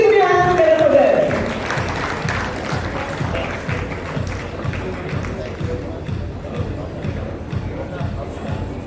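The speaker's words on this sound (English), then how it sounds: "Let's have a round of applause, my dear friends" An audience at a chartered accountants' award ceremony in a hotel ballroom applauds steadily, a dense continuous patter of many hands, while a voice speaks over the start and a tone fades out early.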